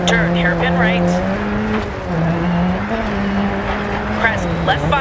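A Ford Sierra Cosworth RS500 rally car on the gravel stage at Blaxlands Creek, Fitzroy, Australia in Dirt 4, its engine droning loudly and steadily with pitch shifts as it changes gear, under a voice talking over it.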